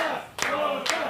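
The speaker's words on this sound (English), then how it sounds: "And the people clap," A wrestling show crowd claps: two sharp, loud claps about half a second apart stand out over a low background murmur, with faint voices underneath.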